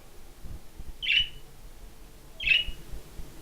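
A pet bird gives two sharp, loud chirps about a second and a half apart, close by, over a quiet indoor background.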